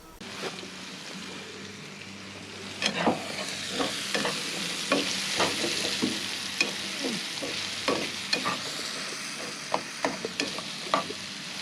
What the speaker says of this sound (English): I'm just going to fry some steak with a bit of veggies